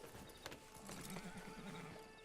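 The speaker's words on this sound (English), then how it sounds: "Oh, so this is my horse?" A horse in the Red Dead Online game clip-clops and whinnies, faint and close, with a few hoof knocks.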